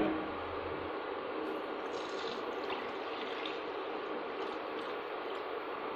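Water pours steadily into a cooking pan being filled for boiling pasta, a continuous close stream with no speech over it.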